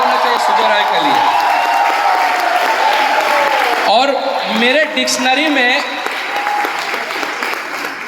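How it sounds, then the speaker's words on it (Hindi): Loud, sustained applause fills a hotel event hall in Kolkata for Sujay Roy, with someone speaking over the clapping throughout and the crowd noise thinning slightly toward the end. "उनके लिए तो एक खड़े होकर जोरदार ताली होना चाहिए, जोरदार ताली होना चाहिए सुजय रॉय के लिए।"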